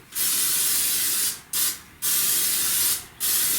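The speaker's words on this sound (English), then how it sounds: "And I'm going to spray it with some non-stick spray." Two long bursts of non-stick cooking spray hiss close by into a pan, each lasting over a second, separated by brief pauses and followed by a short final spurt.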